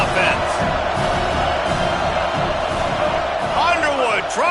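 A stadium crowd roars at an American football game, a loud and steady wall of noise as the offense struggles, with a commentator talking over it and whistles near the end.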